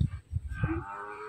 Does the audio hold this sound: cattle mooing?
yes